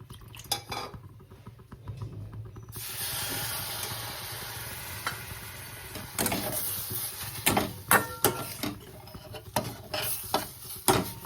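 Buttermilk is poured into a pan of roasted wheat flour, hissing and sizzling, followed by metal stirring and scraping clatter against the pan, fairly faint and close with no talking.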